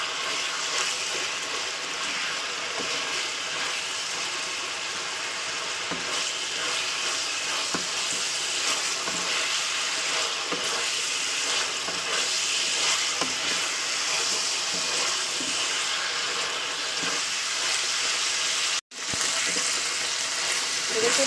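Chicken pieces frying in oil in a kadai with no salt or turmeric added, a dense, steady sizzle and spatter heard up close for a long stretch, briefly cut near the end.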